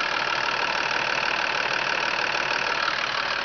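A car engine idles steadily and fairly loud with no blow-by from the dipstick tube, an even continuous rumble with no pauses or speech.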